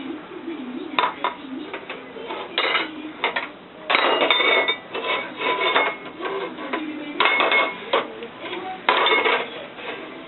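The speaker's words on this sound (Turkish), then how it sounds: "Kaşıkları koy kızım." Spoons laid out one by one on a table while a meal is set, giving intermittent metallic clinks and clatter in bursts, fairly close.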